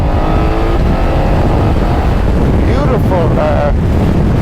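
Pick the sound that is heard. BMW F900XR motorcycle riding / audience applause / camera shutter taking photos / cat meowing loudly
BMW F900XR motorcycle riding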